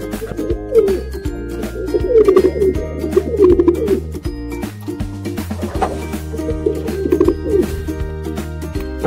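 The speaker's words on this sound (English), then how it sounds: "Pigeon." A pigeon coos in a steady run of soft, low throaty calls over a layer of background music, the cooing repeating at a fairly even rhythm and staying clear and close throughout.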